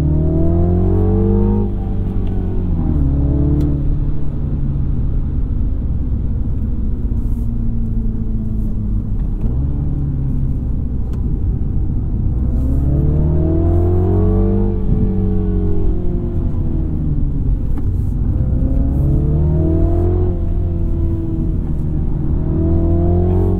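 A 2024 Mini John Cooper Works Hardtop with a six-speed manual revs up hard, drops sharply at each gear shift, then climbs again; loud and close, with no one speaking.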